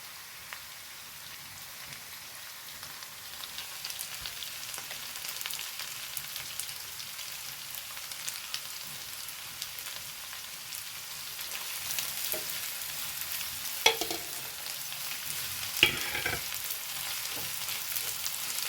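Onions frying in a pan for an egg-based teatime snack, a steady crackling sizzle with a soft hiss throughout, quiet and close, broken by two brief sharper pops near the end.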